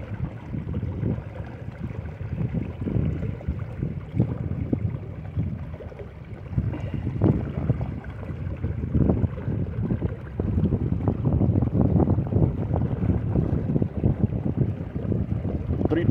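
A Minn Kota trolling motor fitted with an APC propeller runs on a boat at speed 5, a steady low churning drone mixed with water wash and wind noise across the whole stretch, with no talk.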